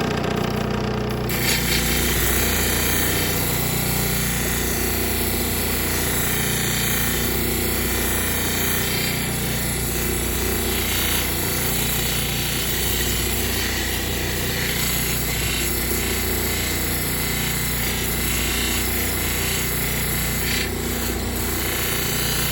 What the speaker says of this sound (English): Now we're gonna move on to the 280 polishing wheel.